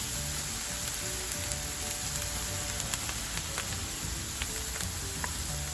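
Tomatoes hit a hot sac pan of Turkish sac kavurma and sizzle quietly, a soft crackling fry with scattered pops over a steady hiss, with no talking.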